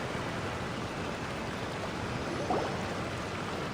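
Steady broadband rushing water of a waterfall in the video game Genshin Impact, constant and fairly loud with no other sounds standing out.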